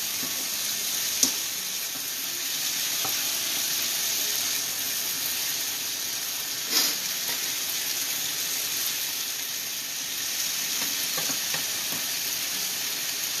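Turkey and vegetables sizzle steadily in a pan, a continuous hiss broken by occasional clicks and scrapes as the pieces are stirred, with no talking.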